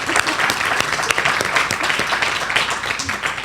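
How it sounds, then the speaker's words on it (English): An audience claps steadily throughout, a dense, continuous patter of many hands at moderate distance. "Give them a round of applause."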